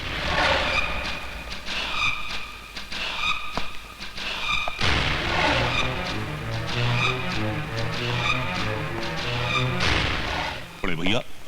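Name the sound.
motorcycles riding and skidding through a house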